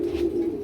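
A single short, low pigeon coo, close and moderately loud, from a restless domestic pigeon in Narayanganj, with no talking.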